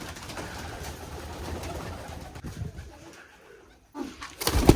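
Freshly released pigeons coo around their loft, soft repeated throaty calls rising and falling close by for several seconds, then a brief lull before a sharp burst of fluttering noise at the end.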